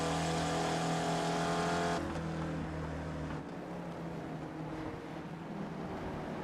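Spec Racer Ford race car engines scream in a sim race at the Charlotte Roval, a loud, sustained high-revving whine that drops in pitch as a car passes, then settles into a steady roar.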